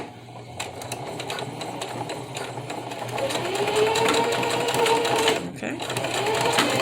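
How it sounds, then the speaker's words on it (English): Sewing machine running a zigzag stitch on a fabric face mask, a steady loud mechanical whir that speeds up and runs continuously with a brief pause, while someone speaks briefly over it. "I'm going to turn it like this, and I'm going to do my zigzag stitch"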